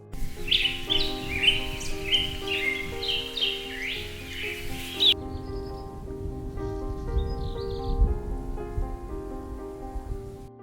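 Birds chirp and sing in bright bursts in Alaska's Tongass forest over a sustained, droning musical backdrop; the birdsong fades out midway, leaving mostly the tonal music.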